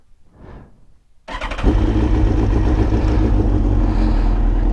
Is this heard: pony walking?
no